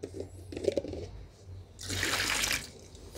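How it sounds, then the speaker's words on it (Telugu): Fermented liquid poured into a bucket holding about 700 ml of water for a homemade aphid spray, a brief splashing pour after some faint handling sounds, close and moderately loud. "సో దాంట్లో మనం దీన్ని ఈ లిక్విడ్ని మొత్తం ఇందులో పోసేద్దాం."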